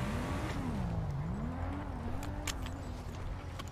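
A car engine revs in a role-play video game, with a steady low drone that rises and dips in pitch as the throttle changes. Brief clicks and clatter sound over it.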